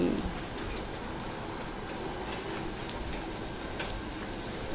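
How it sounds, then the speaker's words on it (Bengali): Steady rain falls outside throughout the day, making a soft, even hiss at low volume with no break in its constant wash. "বাহিরে সারাটা দিন বৃষ্টি হইতেছে"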